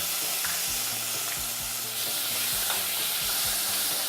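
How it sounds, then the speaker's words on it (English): Chopped tomato hits a pan of butter and garlic, sizzling and frying steadily while it is stirred, with rhythmic scraping knocks of the utensil against the pan and no voice. "So add half cup of chopped tomato."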